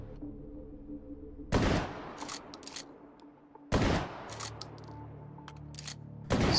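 A pump-action shotgun fires three sharp, loud blasts a couple of seconds apart in the VR shooting game H3VR, with short clacks of the pump cycling between shots over a faint electronic hum.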